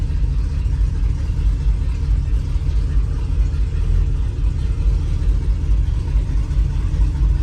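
Ford 390 V8 with a stainless exhaust sitting at low idle, a steady, deep rumbling loop with a faint irregular lope, fairly loud and close, with no talking over it.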